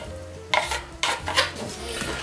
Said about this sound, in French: On va bien mélanger le tout ensemble.